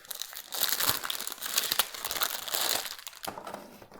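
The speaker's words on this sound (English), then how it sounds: "Let's tear this thing open." Packaging around a light strip is torn open, a loud, continuous crinkling and ripping of plastic and paper up close that fades near the end, with no talk.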